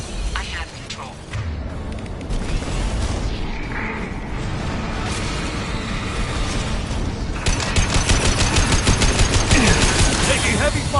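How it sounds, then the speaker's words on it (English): Heavy sci-fi gunfire in Mass Effect during a battle with anti-ship batteries, dense sustained bursts and booms that grow louder and more rapid toward the end, with talk heard faintly under the din. "Taking heavy fire!"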